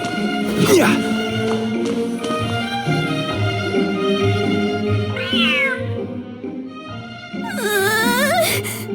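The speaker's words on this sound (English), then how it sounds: "The cat is hissing at me, Miss Rosaria!" Cat hissing and meowing in the video game Genshin Impact, with loud drawn-out meows and hisses rising over game music and ambient sound, a vocal cry near the middle and another at the end.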